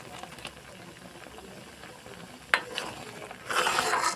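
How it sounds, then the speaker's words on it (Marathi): Mango pieces with three or four cloves simmer in a pot, a faint, steady bubbling with a sharp clink partway through and a louder burst of bubbling near the end. "आता हे शिजायला ठेवलेले आहे."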